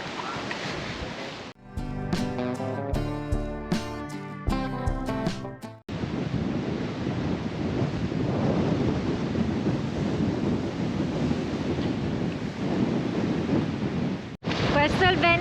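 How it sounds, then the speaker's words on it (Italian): Strong wind roars steadily across a river delta in autumn, buffeting the microphone in a dense, continuous rush that only briefly cuts out near the end. Earlier, music plays briefly. "Questo è il vento che c'è in questo momento sul fiume."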